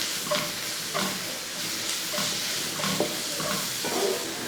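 Ginger garlic paste and onions frying in a pan for chicken curry, a steady close sizzle broken by a few soft scraping stirs of the spoon, with no voices.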